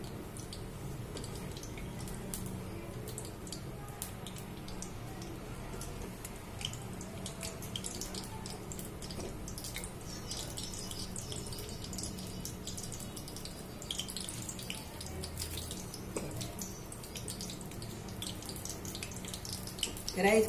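Mustard seeds and cumin seeds sizzle and crackle steadily in hot oil, a continuous dense hiss with small scattered pops for the whole stretch, close and moderately loud with no talking.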